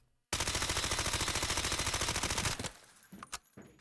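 Sustained automatic gunfire from a weapon in the shooter game Delta Force, one loud rapid burst of evenly spaced shots lasting about two seconds, followed by a few scattered single reports.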